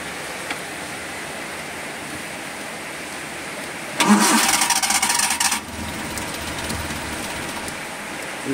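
A Suzuki Carry 1.0 engine cranks and catches in a sudden loud burst, then settles into a rough, uneven idle under steady background noise.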